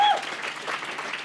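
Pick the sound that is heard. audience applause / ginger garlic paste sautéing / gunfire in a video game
audience applause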